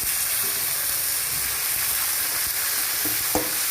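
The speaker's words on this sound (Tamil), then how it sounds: "கருவேப்பிலை போட்டு லேசாக ஒரு வதக்கு வதக்கிட்டு" Curry leaves sautéing in hot oil for a country kendai fish curry give a loud, continuous sizzle, with a couple of sharp utensil knocks toward the end and no talking.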